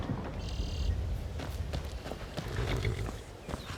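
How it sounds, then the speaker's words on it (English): Horse hooves clip-clop at a walking pace in the video game Skyrim, a steady run of soft, close footfalls over a low ambient bed, with a brief tonal game sound near the start. "My horse should be healed."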